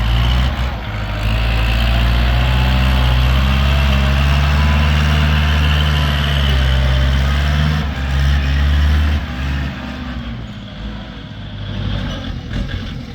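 A Kubota L4708 four-wheel-drive tractor's four-cylinder diesel engine runs steadily nearby, a deep loud idling rumble with slight shifts in pitch.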